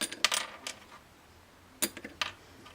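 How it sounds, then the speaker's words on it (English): A small plastic acoustic guitar bridge saddle is dropped or tapped on a hard surface, giving a few sharp, light clicks and ticks in two quick clusters, close and fairly quiet. "This is the plastic saddle."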